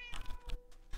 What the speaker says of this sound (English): That cat better follow me.